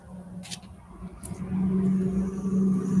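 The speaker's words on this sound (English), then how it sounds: "Semi-truck. That's not something you see on the street every day." A semi-truck passes on a street with a deep engine rumble that swells and holds steady toward the end. The sound is moderately near, and traffic hiss runs beneath it.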